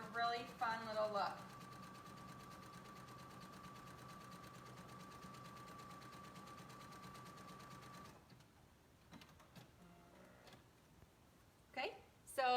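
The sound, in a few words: sewing machine zigzag stitching fabric edge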